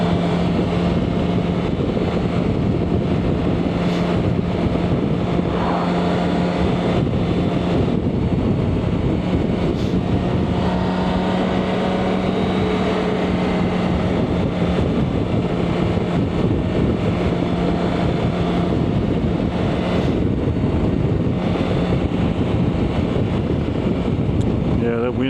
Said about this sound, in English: Yeah, that wind is not going to be fun today.